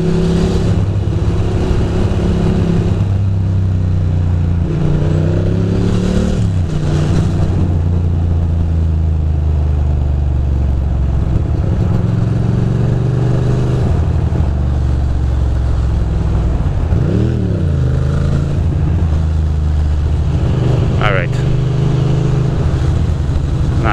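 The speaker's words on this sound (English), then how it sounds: "Feeling one with the traffic right now." Traffic flows on the Brooklyn Queens Expressway, heard from among the vehicles as a continuous loud engine roar with several cars and motorcycles rising and falling in pitch as they accelerate and pass close by.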